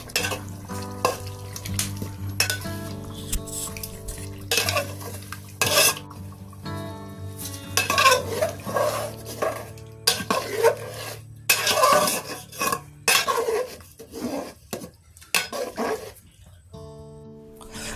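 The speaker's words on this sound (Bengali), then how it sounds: "দেওয়ার পরে এটাকে ভালো করে মিক্স করে নেব।" Chicken curry with oil, spices and yogurt being stirred in a pot, clattering utensil scrapes and knocks over a low sizzle, with a person talking intermittently and a dog barking at times.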